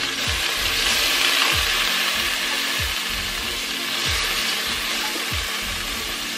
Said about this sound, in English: Now I'm going to add in the rest of the butter.